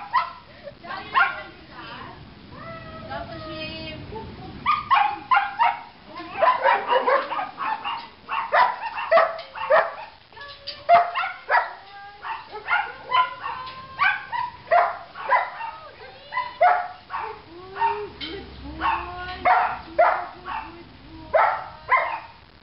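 A Tibetan Mastiff barks and yips repeatedly during a dog training session, with whimpers mixed in. The bursts come close and loud in uneven runs across the whole stretch, and a person talks over parts of it.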